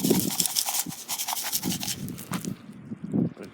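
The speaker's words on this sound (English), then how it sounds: "I'm just gonna be putting down some sand and salt, like this" Sand and salt are scattered onto freshly shoveled outdoor stairs before a March blizzard, giving close, repeated gritty scraping and rasping strokes in an uneven rhythm that trail off at the end.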